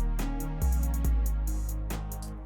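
A programmed hip-hop beat with punchy kicks, snare hits and a sustained bass line, repeating quickly across a short measure.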